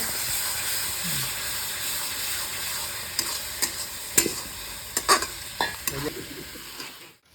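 Ginger paste frying with fried onions hisses steadily in the pan while a utensil stirs and scrapes in irregular, louder bursts near the end, with no voices.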